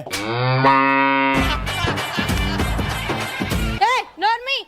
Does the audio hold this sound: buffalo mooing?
yes